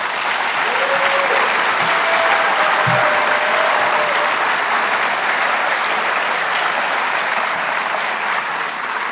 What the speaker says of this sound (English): Thank you for being here, and you can applaud.